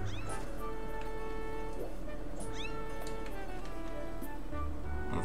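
A kitten in Zelda: Skyward Sword HD meows several times, short rising mews over a steady game music background, fairly close and clear.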